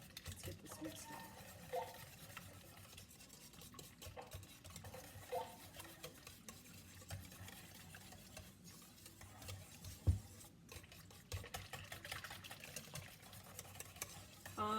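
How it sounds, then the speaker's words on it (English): Spoon stirring banana snack cake batter made with applesauce and water in a bowl, a soft continuous scraping and rubbing with occasional light taps against the side, fairly quiet and close. "Let's get this mixed up."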